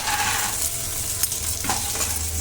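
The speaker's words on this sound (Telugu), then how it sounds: "ఎండుమిరపకాయలతో పాటు పల్లీలను కూడా వేసి ఫ్రై చేసుకోవాలి" Dried red chillies and peanuts frying in a pan for a ridge gourd chutney, a steady close sizzle with a few light clinks and scrapes from stirring.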